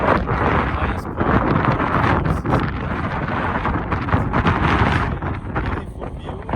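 Strong wind buffeting the microphone at the false summit of Cascade Mountain, a loud, gusty, continuous rumble with irregular bursts throughout.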